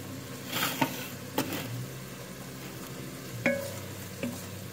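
Bacon frying in butter in a pan for beef bourguignon, a low steady sizzle broken by a few distinct scrapes and clinks of a utensil stirring, no talking.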